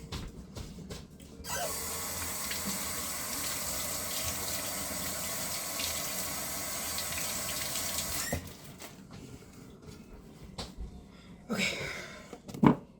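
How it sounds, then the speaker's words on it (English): Hands are washed under a running kitchen sink tap, a steady close hiss of flowing water for several seconds before it shuts off, followed by quieter handling noises and a brief clatter. "Wash my hands again."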